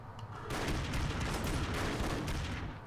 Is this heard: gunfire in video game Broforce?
yes